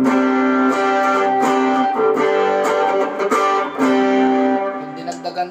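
Electric guitar run through a booster pedal plays sustained, loud chords and notes with a slightly driven tone, alone without talk.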